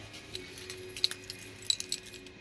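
Keys jangle and clink close by in a quick, irregular series of bright metallic chinks, fairly quiet, with no talking.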